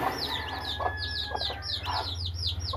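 A Kairali hen sitting with her freshly hatched chicks keeps up low clucks, while rapid high peeping calls repeat close by throughout.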